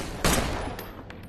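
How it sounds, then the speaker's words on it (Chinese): A gunshot rings out in a crime drama scene, a single loud crack near the start followed by a few fainter, sharper reports trailing off, with no speech. "西叔开枪打死了他"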